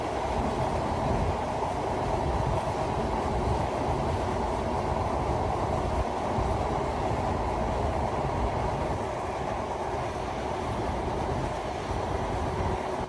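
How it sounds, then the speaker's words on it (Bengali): Benapole Express train runs steadily at speed on the Padma Bridge route, a continuous loud rumble and rattle of carriages heard from inside, with no voices. "পথের অবস্থা ভেদে গতি বাড়িয়ে কমিয়ে ছুটছে ট্রেন"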